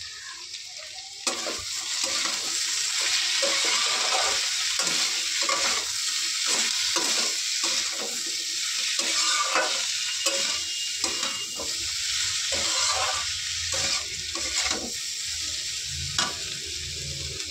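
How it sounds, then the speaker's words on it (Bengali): Potatoes fry in a pan with salt, turmeric and slit green chilies for a curry, giving a steady, close sizzle with repeated stirring scrapes throughout and no talking. "আলুটাকে দিয়ে কিছুক্ষণ ভেজে নিয়ে এবার নুন, হলুদ আর চেরা কাঁচা লঙ্কা দিয়ে দিয়েছি"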